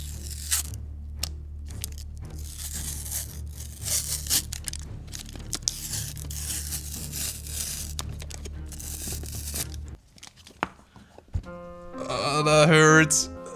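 Packaging on a 1974 Rubik's Cube is torn open, with repeated close crinkling and ripping of plastic wrap, a brief pause, then a louder, sharper tear near the end.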